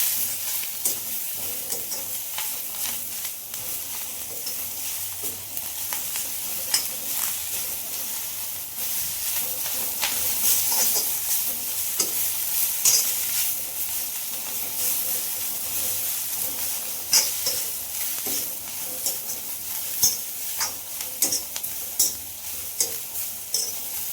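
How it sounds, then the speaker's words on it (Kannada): Fenugreek leaves frying in a pan for methi bath, a continuous hissing sizzle with frequent clicks and light scraping of a spoon, steady and close throughout with no talking. "ಇವಾಗ ಚೆನ್ನಾಗಿ ಫ್ರೈ ಮಾಡ್ಕೋಬೇಕಿದ್ದು ಹಸಿ ವಾಸನೆ ಹೋಗೋವರೆಗೂ"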